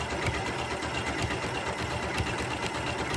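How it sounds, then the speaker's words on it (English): A Janome Continental M6 sewing machine stitches a corner on an appliqué quilting piece, a steady, fast mechanical whir with a rapid needle rhythm running continuously and close by, with no voices. "when it starts the corner, it's gonna sew a little further down and start the corner"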